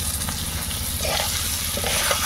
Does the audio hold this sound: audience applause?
no